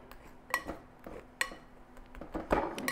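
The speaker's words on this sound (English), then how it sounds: "I'll take my knife and just push that butter back through because it gets kind of caught up into the pastry blender" Pastry blender working butter into flour in a bowl: a few close, irregular metallic clinks and scrapes against the bowl, with softer crumbly mixing sounds between them.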